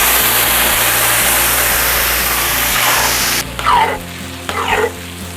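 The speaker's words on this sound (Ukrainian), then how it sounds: "Гарно все вимішую з цибулею." Onion and mixed vegetables fry in a cauldron with a steady dense sizzle, then the hiss drops as a spoon scrapes and stirs the food twice in short rhythmic strokes.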